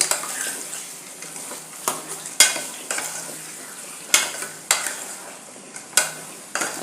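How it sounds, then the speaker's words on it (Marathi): Mutton sautéing in hot oil with onion and tomato in a pan for Kolhapuri mutton fry, a steady sizzle broken by sharp, repeated scrapes and clatters of a spoon stirring against the pan, close and without talk. "याच्यामध्ये आपण मटण घालून घ्यायचं आहे आणि व्यवस्थित तेलामध्ये मटण परतून घ्यायचं आहे"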